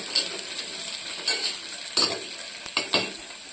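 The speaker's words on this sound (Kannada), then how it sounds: "ತಿರ್ಕೋಬೇಕು" Onion pulao ingredients are stirred in a frying pan, with a spoon scraping in several short, uneven strokes over a soft, steady sizzle, heard close and with no talking.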